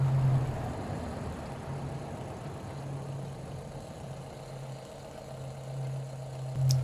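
A 12V engine oil extraction pump clipped to a car battery runs steadily, giving a low, constant motor hum with a mild buzz, close and continuous without pause.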